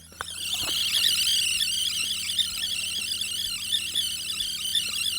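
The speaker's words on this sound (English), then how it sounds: "I'm assuming that is the sound of data coming in." Continuous high-pitched warbling data tone from a cassette tape loading into a Sharp PC-1251 pocket computer with CE-125 tape unit, steady and fairly loud for the whole stretch, with faint clicks underneath and no talking.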